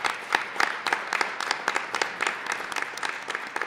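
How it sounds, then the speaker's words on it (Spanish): An audience applauds at a book presentation, sustained clapping from a room of people, steady and moderately loud throughout. "Pues démosle un gran aplauso aquí al maestro Rafael Pulido Lara."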